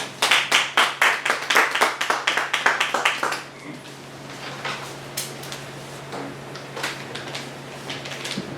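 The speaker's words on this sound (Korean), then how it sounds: "감사의 박수 올려주세요" Audience at a Korean church mission seminar claps in a brief burst of quick, close handclaps that stop abruptly after a few seconds, leaving scattered faint taps and room murmur.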